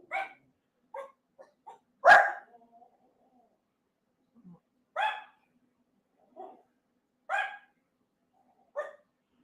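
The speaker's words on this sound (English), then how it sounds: "Sorry about all the dogs barking." Several dogs barking in short, separate bursts, some single yips and some louder woofs, spaced irregularly with quiet gaps between them, at moderate distance and with no one talking.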